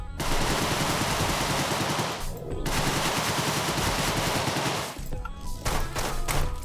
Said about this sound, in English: I think you just straight up get up here and then Tommy gun out.